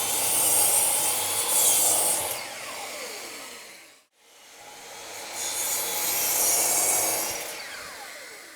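Long wooden boards are sawn shorter by hand in two long, rasping passes separated by a brief pause. The strokes are close and loud, with no talking.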